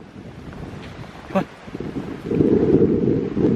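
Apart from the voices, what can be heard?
strong cold wind blowing on the microphone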